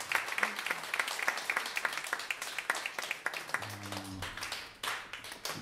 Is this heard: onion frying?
no